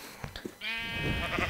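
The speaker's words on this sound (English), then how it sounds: "Oh, there's a whole freaking mob of sheep." Sheep bleating in the game Minecraft, a single drawn-out, wavering bleat rising loud after a few short clicks, clear and close with no talk over it.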